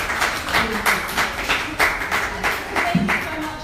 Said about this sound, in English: And let's clap.